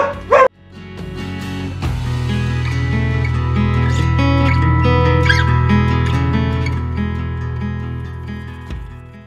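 Dogs howl and whine in a long sustained chorus, loud and close, after a brief sharp sound at the start.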